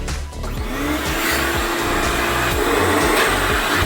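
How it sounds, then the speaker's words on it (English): A vacuum cleaner motor runs steadily and loudly throughout, a continuous whirring drone with no voices. "So obviously, turn on your vacuum."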